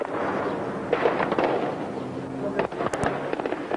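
Several sharp gunshots crack in a loose, irregular burst, some distant, heard beneath someone talking; the first shots at the central market in Kinshasa.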